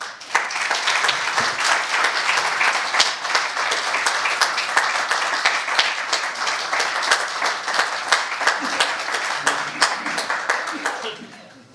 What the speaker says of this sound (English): let's invite Hina with a big round of applause